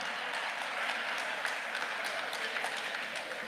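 Steady, full clapping from a seated audience at a Tamil inspirational lecture by Parveen Sultana, many hands blending into a continuous roar at constant loudness, with no speech on top.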